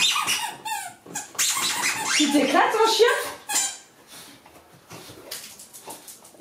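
Dog whimpering in a home, with high squeaky whines and short squeals near the mic, mixed with rustling and a voice talking over it.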